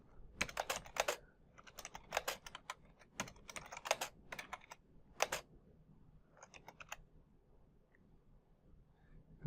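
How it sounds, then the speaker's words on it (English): Close typing on a computer keyboard, with clustered bursts of crisp key clicks separated by short pauses, fairly quiet and with no talking. "And I'm just going to type in"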